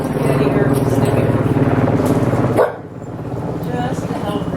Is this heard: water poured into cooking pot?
no